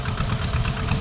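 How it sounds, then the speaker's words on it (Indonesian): A tractor plowing a rice paddy beside an irrigation canal gives a brief, close engine chug with a rapid pulsing beat, heard for only a moment. "Membajak sawah pakai traktor."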